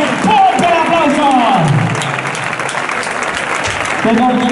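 Dense, loud audience applause after a strike at an event in Tudela, Navarra, a continuous roar of clapping and crowd noise with a voice calling out over it.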